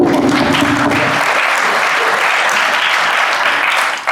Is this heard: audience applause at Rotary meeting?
yes